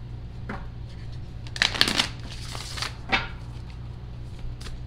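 Tarot cards shuffled by hand in a quiet room, with a few soft riffling bursts and light card slaps that rise and fall near the middle of the stretch, close and fairly gentle.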